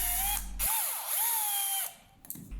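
An electric screwdriver whirs in short bursts with rising and falling pitch, unscrewing the back-cover screws of a Makita rotary hammer, close and fairly clear.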